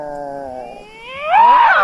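A cat yowls in a drawn-out, wavering cry that rises in pitch and grows louder toward the end.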